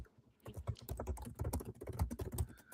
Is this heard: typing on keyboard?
yes